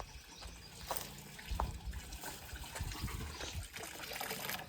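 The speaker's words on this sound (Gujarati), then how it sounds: "અહીંયા જો પાણી ભરાઈ રહ્યું." Water trickles and splashes softly as it fills a trough at a cow shelter, a faint steady flow with small irregular splashes.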